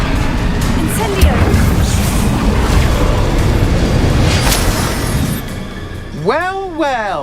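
An Incendio fire spell in Hogwarts Legacy, a rumbling whoosh and booming flare over a busy fight, followed near the end by a short wavering magical chime.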